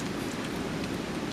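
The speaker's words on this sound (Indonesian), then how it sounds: "Makan di tengah hujan ya?" Steady rain falls over an outdoor camping spot where a group is eating, a continuous even hiss with no breaks and no voices.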